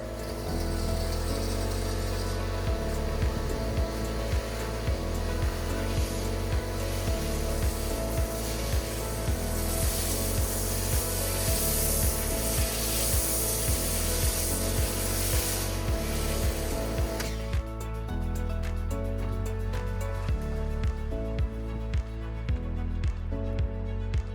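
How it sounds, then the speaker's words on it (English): A pressure washer fitted with a smaller orifice nozzle sprays through an MJJC SV3 snow foam cannon, making a loud, steady rushing hiss that cuts off abruptly near the end, leaving quieter tonal background sound. "the difference in sound the pressure washer is making with a smaller orifice nozzle"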